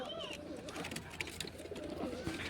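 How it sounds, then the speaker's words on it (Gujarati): A pigeon coos softly inside a loft housing pigeons and their chicks, low rolling calls set against faint background noise. "જો કબૂતરી અત્યારે આવી ગઈ છે અંદર"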